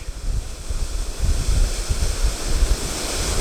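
A steady, heavy roar of a waterfall crashing into a lake, a dense low rumble with broadband hiss, continuous and fairly close.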